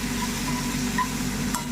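Raw plantain slices fry crisp in a pan with a steady, close, even sizzle that holds for the whole stretch, no voices.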